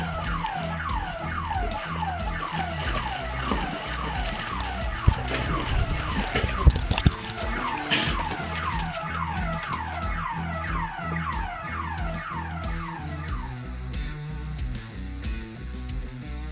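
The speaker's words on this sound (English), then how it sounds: "The alarm is driving me crazy." A rapidly warbling electronic alarm wails continuously and loudly, its sweeping tone cycling over and over, with a brief clatter of other noise partway through.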